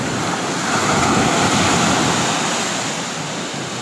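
Rough sea waves during stormy monsoon weather wash and roar continuously, loud and close, with wind buffeting the microphone and no voices.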